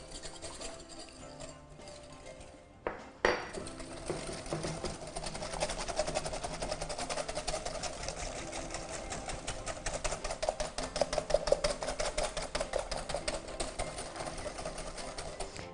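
Eggs and sugar are mixed in a bowl for a chocolate cake, producing fast, rapid clicking and tapping of a whisk against the bowl. The sound runs continuously after a brief pause near the start, close and moderately loud.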